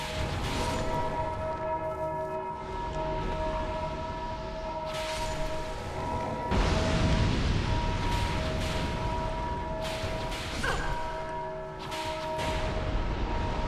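Deep bells toll in the Dark Souls 2 game, a steady ringing drone layered with sustained overtones that swell and fade over a dark ambient bed, with several fresh strikes punctuating the stretch.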